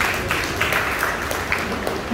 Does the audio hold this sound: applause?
yes